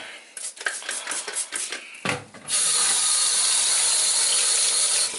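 Water sprays onto a Wessel Werk TurboTeQ vacuum turbo brush during cleaning: first scattered wet rubbing and clatter, then a loud, steady close hiss of spraying for the last few seconds.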